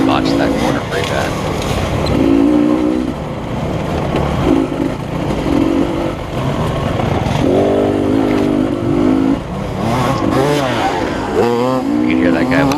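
Racing motorcycle engine of a faster rider closing in from behind during a race at LaCygne, Kansas, loud and close, revving and shifting over a steady roar of wind and the rider's own engine throughout.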